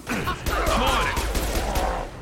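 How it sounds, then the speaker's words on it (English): Rapid gunfire crackles through a Mass Effect 2 combat scene on Korlus, dense overlapping shots and impacts filling the short burst with little pause, close and loud throughout. "Taking fire."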